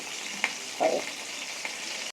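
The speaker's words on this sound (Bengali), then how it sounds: "পটল আলুগুলো ভাজা হচ্ছিল" Pointed gourd (potol) and potato pieces frying in a pan give a steady, moderate sizzle throughout, with a few brief clinks or stirring knocks near the start and middle; no talking.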